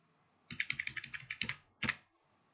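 Typing on a computer keyboard while entering a web page title: a quick run of close, crisp key clicks, a short pause, then a final louder keystroke, heard alone.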